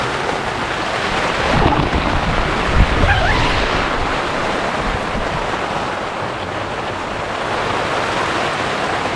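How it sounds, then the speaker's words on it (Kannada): Heavy rain pours steadily onto a camping tent in a deep Karnataka forest during a thunderstorm, a dense continuous roar with a low rumble of thunder swelling near the start, wind shaking the tent. "ನನ್ನ ಹಿಂದ್ಗಡೆ ಫುಲ್ ಮಳೆ ಬೇರೆ ಬೀಳ್ತಾ ಇದೆ ಗುರು"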